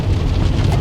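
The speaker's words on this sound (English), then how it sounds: "it's a lot of rain today" Heavy rain falls in a loud, dense, continuous hiss with a deep rumbling undertone, close by and steady.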